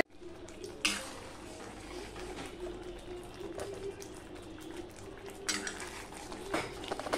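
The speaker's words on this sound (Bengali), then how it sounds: "এবার ভেজে রাখা ডিমগুলো আমি দিয়ে দিলাম। দিয়ে 2 মিনিটের মতন রান্না করে" Utensils clink and scrape against a pot as fried eggs are added to an Afghani egg curry and left to cook, with light bubbling and occasional louder metallic knocks throughout, no talking.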